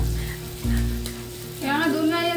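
Samgyupsal pork belly sizzles and fries steadily on a hot pan, close and continuous, with a hum beneath it. A tonal, voice-like sound joins near the end.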